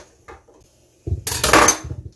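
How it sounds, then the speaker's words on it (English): Diced onions, about a cup, tipped into a casserole pan for a haddock casserole, giving a brief soft clatter and thud followed by a loud sizzle that carries on close by, with faint clinks just before. "going to throw the onions in, about a cup of onions"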